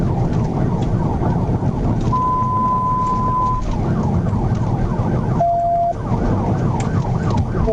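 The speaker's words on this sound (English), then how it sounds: "The trooper activated his siren and the chase was on." A police car siren wails loud and steady through a high-speed pursuit, with a dense rumble of engine and road noise underneath and no talking.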